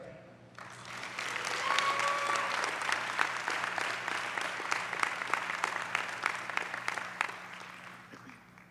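An audience at a student academic excellence awards ceremony applauds to welcome a performer to the stage, steady, dense clapping that swells and then gradually fades, with a few faint voices underneath.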